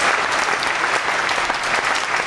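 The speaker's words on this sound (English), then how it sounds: "Number four, thou shalt clap," An audience at an open stage comedy and performance show claps steadily, a close, loud wash of applause with no talking over it.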